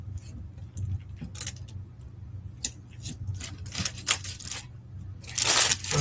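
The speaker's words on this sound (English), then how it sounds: "We're gonna secure with some tape back here." Strips of tape are pulled off a roll and pressed on to fix a decoration from the back, giving several sharp close rasping tears and crinkles over a low steady hum, with no talking.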